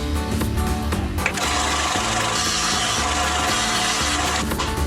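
A bench power tool runs continuously at close range, a loud steady whine and grind as RC car suspension parts for an Arrma 6s are bevelled, with a brief dip partway through.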